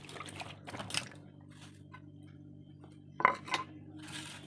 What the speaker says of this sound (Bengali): পটলগুলোকে ভালো করে ধুয়ে নিচ্ছি